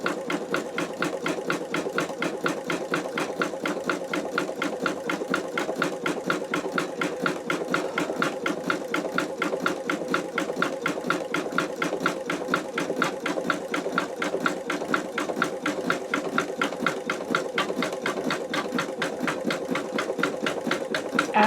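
An embroidery machine stitches out an in-the-hoop wallet with a steady, rapid needle rhythm that runs close and unbroken throughout.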